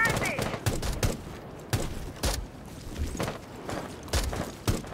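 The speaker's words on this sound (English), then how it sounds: "Who was shooting at us, man?" Gunfire in Rainbow Six Siege during a bomb-defuse round, Operation Deep Freeze season: a scattered series of sharp shots, about seven, at uneven intervals, over a steady background of game noise.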